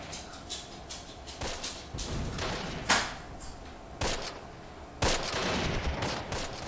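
Video game gunfire from a battle at St. Marie du Mont, with irregular bursts of distant and nearer shots and heavy thumps scattered among rattling machine gun fire.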